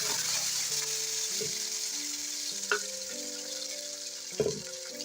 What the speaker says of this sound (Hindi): और अब डाल देंगे ये टमाटर का पेस्ट।